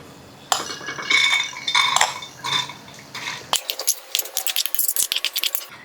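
Washed toor dal lentils are tipped into a metal pressure cooker, giving a rattling pour followed by a quick run of sharp clinks and taps, close and clear.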